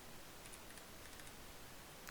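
A few soft, faint clicks come from a computer keyboard as an answer is typed in, scattered lightly over a quiet hiss with no voices.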